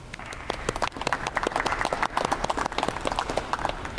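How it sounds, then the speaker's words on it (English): Round of applause at a university commencement ceremony recognizing the regents, a dense patter of many hands clapping, moderately distant and continuous throughout. "please join me in a nice round of applause recognizing our regents"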